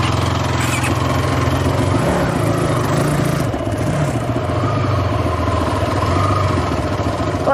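A car engine runs in gear, a loud steady low drone that rumbles continuously throughout with slight shifts in pitch, close and unbroken.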